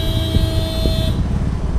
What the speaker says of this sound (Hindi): जब जाना ही नहीं था तो हॉर्न क्यों बजा रहा है फालतू में।